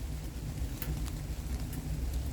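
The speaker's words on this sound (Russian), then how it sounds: "Дождь идет." Rain falls outdoors beside a titanium stove, a faint, steady hiss with a few scattered louder drops throughout.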